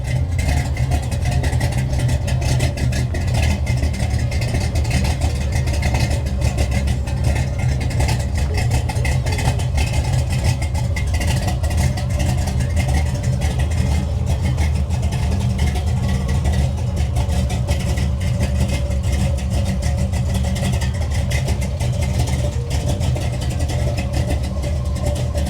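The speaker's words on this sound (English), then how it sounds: "I mean, listen to the idle." A 1972 Chevrolet Nova classic car idles steadily and smoothly, a constant low engine rumble that stays even and loud throughout with no revving or voices.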